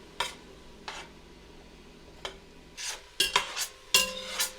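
Vegetables sautéing slowly over medium heat in a soup pot, with soft sizzling under a series of spoon stirs and scrapes against the pot, growing busier toward the end.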